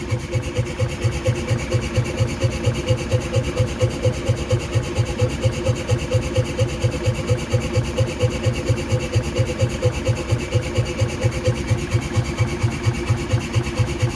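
An air compressor runs steadily nearby with a fast, even mechanical pulsing throughout, checked with a Shimpo DT-105 tachometer, no voices present.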